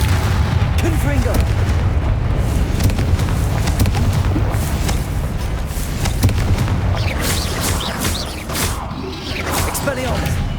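Confringo fire-spell blasts in the game Hogwarts Legacy, loud booming explosions and crackling bursts running on through dense combat noise, with whooshes between the impacts.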